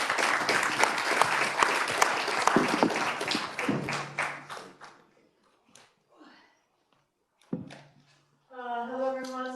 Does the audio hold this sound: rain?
no